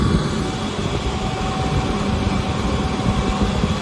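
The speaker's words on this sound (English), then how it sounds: "the truck is flowing fuel right now" A steady, droning mechanical hum with a low rumble from a jet fuel truck pumping fuel, holding even throughout with no voices.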